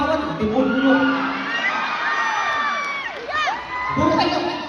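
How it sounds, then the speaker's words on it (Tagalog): A live concert crowd at a Liverpool show cheering, whooping and shouting together, a loud sustained roar with rising yells throughout. "Gusto ko, di ba lang kayo muna magpalakpakan ng sigawan?"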